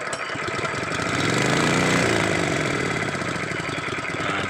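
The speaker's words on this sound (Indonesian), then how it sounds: "mesin hidup bagus, nggak ada masalah lagi" A Honda GX160 small engine runs smoothly and close by after a governor adjustment, a steady loud putter that swells slightly mid-clip and then holds even, with no talk.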